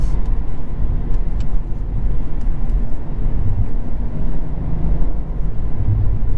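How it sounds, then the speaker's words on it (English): Exhaust burble from a 2022 Cadillac CT4-V Blackwing under way, a steady low rumble with scattered crackles over constant road and engine noise, with no talking. "The burbles, oh my goodness."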